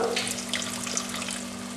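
Spices sizzle steadily in a hot pan as about a tablespoon of cider vinegar goes in for a chicken vindaloo, a continuous close frying hiss with small crackles and no voices.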